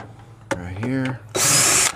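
Power drill loosening screws on the coil of a York gas package unit, a brief whirring run, then a pitch-changing motor sound and a loud sustained spin near the end.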